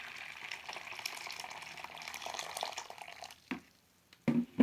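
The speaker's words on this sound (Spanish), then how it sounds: "Vamos a vaciar un poco de agua" Hot water poured into a heat-resistant container, a steady hissing, splashing stream lasting several seconds at close range, then a brief pause and a few clinks and drips near the end.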